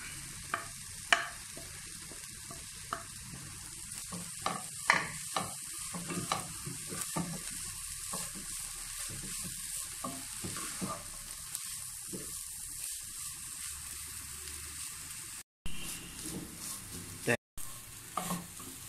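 Upma with grated coconut being stirred in a hot pan, a spoon scraping and tapping in an irregular rhythm over a steady soft sizzle, close and continuous, with two brief dropouts near the end.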